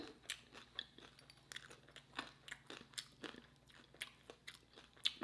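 Someone bites into a crunchy homemade taco, giving a quiet run of crisp crunches and chewing clicks close to the mic, with no talking.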